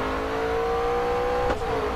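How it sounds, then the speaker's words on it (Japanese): A race car engine revs in the racing game GRID Autosport, a steady high droning tone that holds for two seconds with a brief blip near the end. "エンジンの音がかっこいいですね。"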